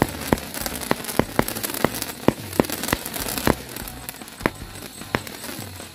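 A jumbo cake firecracker fires at night during Takbiran celebrations, a string of sharp cracking bangs at quick, slightly irregular intervals over a hissing, crackling background, with no speech.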